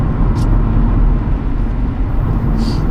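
A 2000 Mercedes-Benz S500 cruising on a highway, with steady loud low road and engine rumble and wind noise throughout.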